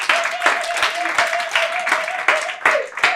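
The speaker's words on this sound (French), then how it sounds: "Applaudissez-les, s'il vous plaît." A church congregation claps for the children, steady applause filling the room with sharp individual claps poking through, while a voice speaks over it.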